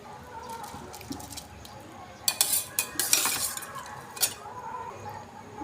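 A ladle stirs and scrapes through rice in a cooking pot for biryani, with a few soft clinks and then a burst of quick metallic scrapes and wet stirring, close and fairly quiet.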